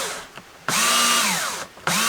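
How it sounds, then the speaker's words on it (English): A cordless drill whirs in two sustained bursts, the first long and the second starting near the end, each spinning up sharply and then easing slightly in pitch, loud and close with a short pause between. "I forgot my drill needs to be charged."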